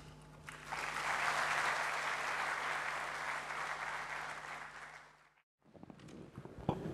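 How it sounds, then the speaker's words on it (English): Audience applause at a college induction program for a new student batch, a broad steady clapping from a large seated group lasting about five seconds before stopping abruptly, followed by quiet room noise. "One of the very rare occasions when people clap when I'm about to speak"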